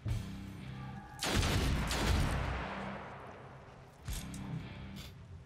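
Gunfire in the turn-based tactics video game Othercide: a sharp burst at about a second in with a long rolling boom tail, then a second shot later, loud and without talk.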